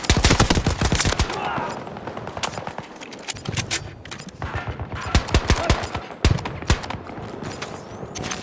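Rapid gunfire in the video game Battlefield 2042, pistol and automatic shots cracking in dense, irregular bursts across a chaotic battle with little pause between them.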